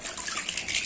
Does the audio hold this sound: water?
yes